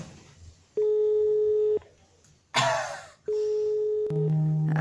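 A phone call's ringing tone, steady electronic tone bursts with pauses, the last one layered with a lower buzzing tone.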